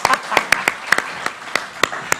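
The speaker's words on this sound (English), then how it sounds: "give him a little clap" Sparse, light clapping at an Australia Day community celebration, a small handful of distinct claps at an uneven, slow rhythm rather than a full crowd.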